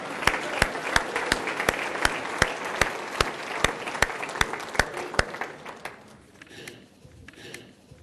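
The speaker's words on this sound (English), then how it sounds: "Let's give him a round of applause." Audience applause at a city event, sharp regular claps standing out over a crowd clapping for about five seconds, then fading into quieter murmuring.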